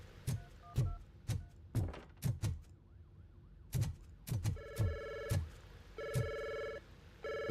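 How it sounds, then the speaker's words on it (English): An old telephone rings repeatedly in an office, sharp bell bursts in an uneven rhythm, joined near the end by steadier electronic tones, fairly quiet overall. "Somebody answer that phone?"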